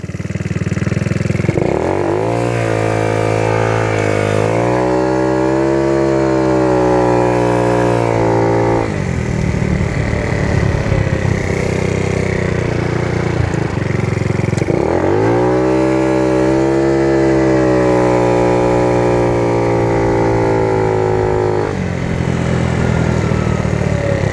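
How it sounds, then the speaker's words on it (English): A TaoTao Racer 50 motorcycle's small engine on a ride, loud and close, with repeated rising whines as it accelerates through gears, dropping back between pulls. "we're going to take a ride on the 50. The TAO TAO Racer 50."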